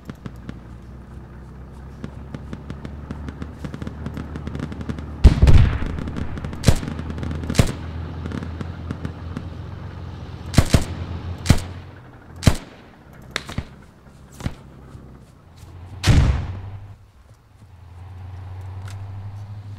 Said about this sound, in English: No, Panda, I'm shooting over your head.